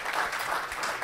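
A brief burst of audience clapping at an awards ceremony, a dense, even patter from a crowd lasting about a second at moderate volume.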